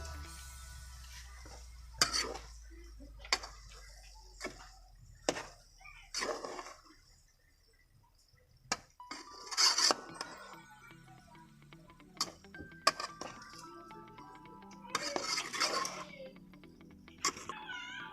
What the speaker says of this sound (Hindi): गरम मसाला डालने के बाद इसको अच्छे तरीके से मिक्स कर लें।